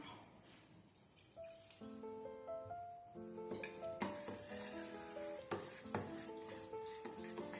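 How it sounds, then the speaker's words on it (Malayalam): Water poured into maida batter and stirred for sukiyan fritters, a steady wet mixing and scraping in a bowl with clinking strokes, close and fairly loud, under soft background music with no talk. "സ്വല്പം വെള്ളം കൂടി നമുക്ക് ഒഴിച്ചു കൊടുക്കാം."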